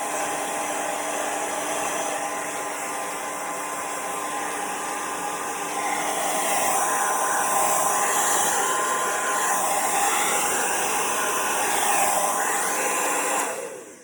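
A hair dryer blows on hair, producing a loud, steady rushing hum that swells slightly partway through and then cuts off at the end, with no talking.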